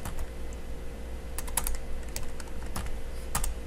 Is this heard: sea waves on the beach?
no